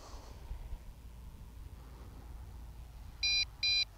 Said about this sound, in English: You'll get a beep off the transmitter when it starts to go too much.